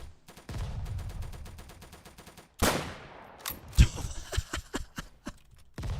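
Gunfire in a Roblox video game: a fast automatic burst of close shots, a pause, then a loud blast and a scatter of further single shots and impacts.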